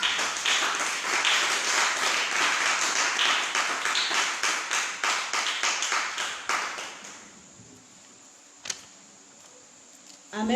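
Church congregation clapping together in a rhythmic burst of applause that gradually thins out and fades, followed by a quieter stretch with a single sharp knock.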